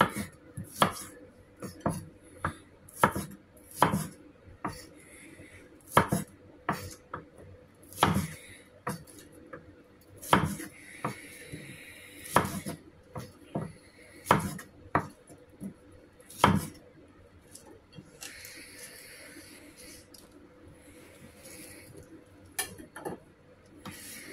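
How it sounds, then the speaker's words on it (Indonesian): A knife chops corn into pieces on a cutting board in a home kitchen, sharp irregular knocks repeating in bursts at close range, thinning out toward the end. "Ini jagungnya akan aku potong-potong seperti ini."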